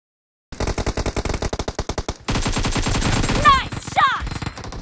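AKM rifle fire in PUBG, a loud close rapid string of single shots that turns into a sustained full-auto burst, with short chirping game effects layered on top near the end.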